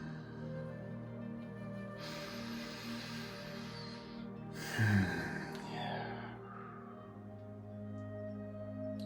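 During a guided meditation, a slow deep breath in, then a longer audible breath out, soft and close over a steady low background hum.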